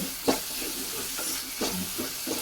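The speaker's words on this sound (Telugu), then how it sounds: "పచ్చివాసన పోయేంత వరకు వేయించుకోవాలి ఈ అల్లం వెల్లుల్లి పేస్ట్" Ginger-garlic paste sizzles steadily in a hot pan while it is fried for a ridge gourd curry. A few sharp spatula scrapes and stirs punctuate the close, even frying hiss.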